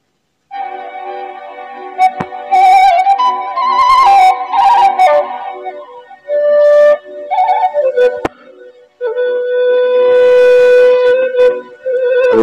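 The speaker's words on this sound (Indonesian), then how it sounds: "alunan suara suling yang sangat indah dan bikin adem" Suling bamboo flute winds through an old-fashioned melody of held notes and quick trills, clear and prominent, with short pauses between phrases and no voices.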